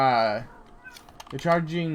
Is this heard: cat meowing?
yes